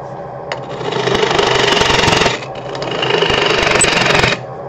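A wood lathe spins a live-edge red oak firewood bowl while a tool cuts it, giving two loud, rumbling, chattering passes separated by a brief lull over the steady hum of the machine.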